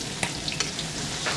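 Chopped garlic and onion sautéing in hot oil, a steady close sizzle with a few sharp clicks of a spatula against the pan over a little over a second.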